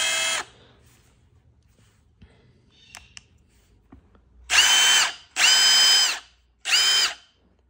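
A Milwaukee impact driver runs in loud, close bursts: one short burst, a quiet pause, then three longer runs in quick succession, with no talking.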